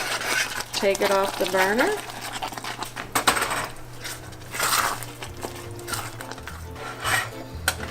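A spoon stirs coconut and pecans into thick cake frosting in a pot, producing soft scraping and rubbing strokes against the metal while someone talks over the sound.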